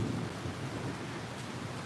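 Thunderstorm with rain, a dense continuous rush of rainfall with low rumbling thunder underneath, steady and enveloping with no voices.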